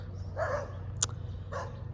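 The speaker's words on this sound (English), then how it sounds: "There are some barking dogs next door, as we can see." Dogs bark next door on a residential street of single-family homes in southwest Redmond, two muffled, mid-distance bursts separated by a sharper yip, over a steady low hum.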